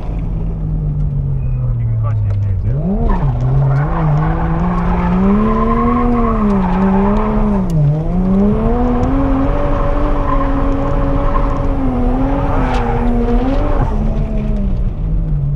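A car driving and drifting on the Ebisu Circuit touge course, engine droning loudly and rising and falling through gear and throttle changes, with tire squeal mixed in, heard close from inside the car.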